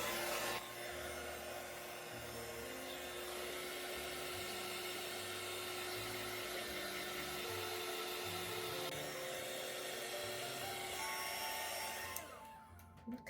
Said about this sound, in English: I'm going to bring in my heat tool and heat it up, and then I'll hit this and dry the ink